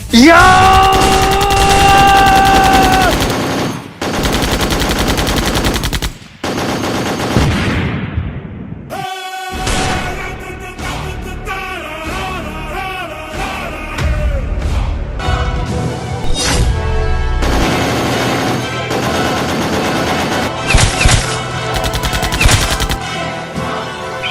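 Gunfire erupts after a fire command in a dramatized army scene. Loud bursts and rapid volleys of shots are layered with music, booms and crashes that run through the whole stretch.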